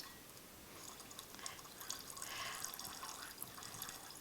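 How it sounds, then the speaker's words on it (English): Deionized water is poured into a laboratory beaker holding copper hydroxide, a faint, soft trickle and splash that swells briefly midway, heard alone in a quiet room. "we'll add some more DI water"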